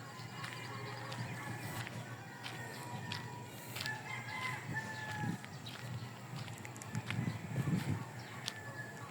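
Roosters crow repeatedly at a village cockfighting arena, a few calls close and others farther off, over a low steady outdoor hum with occasional clucks.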